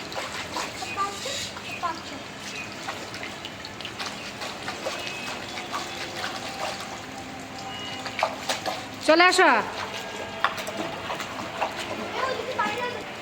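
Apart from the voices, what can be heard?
heavy rain and splashing water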